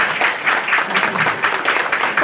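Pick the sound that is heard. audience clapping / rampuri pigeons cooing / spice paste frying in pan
audience clapping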